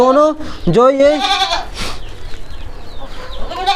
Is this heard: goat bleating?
yes